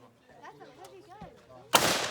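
A single loud gunshot from a heavy gun at an outdoor shooting session, a sudden close blast near the end that follows brief talking.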